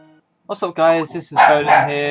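Dogs bark and yip close by, several quick barks blending with a voice talking over them.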